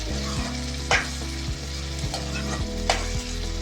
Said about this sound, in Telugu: చింతపండు పులుసు కొంచెం పెట్టుకున్నాం కదా, అది వేద్దాం.